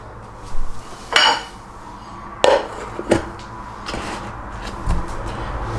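Bowl of hydrated pizza dough being covered in a kitchen, with a few sharp clinks and knocks of dishware and a lid scattered among quieter handling sounds, close by.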